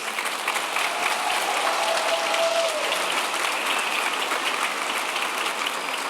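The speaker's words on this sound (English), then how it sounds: "So let's give these students a round of applause." Steady, dense applause fills a high school graduation ceremony as the audience claps for the graduating students, a loud continuous wash without a break.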